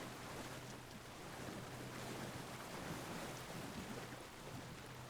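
Water sloshing and churning steadily as a character wades out of the water in the video game Alan Wake II, a dense, continuous wash of surf-like noise with no voices.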